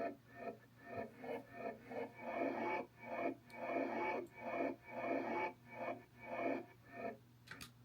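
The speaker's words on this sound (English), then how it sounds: "And now the lawnmower kind of sounds like this." A lawnmower sample reworked with a vocoder, EQ and an auto filter comes across as a pulsing, rhythmic buzz that swells and fades in repeated bursts over a steady low hum, with no voices.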